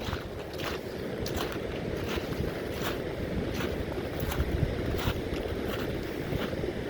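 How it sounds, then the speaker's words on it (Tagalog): Steady rush of rough, choppy sea water with repeated wave surges and wind in the United Kingdom, constant and fairly loud throughout, no voices. "dagat ay medyo maalon"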